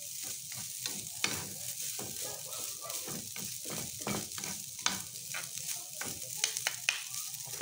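Food stirred in a pan with only a little oil, giving a steady soft sizzle broken by repeated scraping strokes of a spoon or spatula at an uneven rhythm, close by, with no talking.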